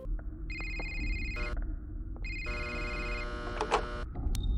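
A phone rings in a Five Nights at Freddy's fan video game, two electronic trilling bursts with a pause between them over a constant low hum.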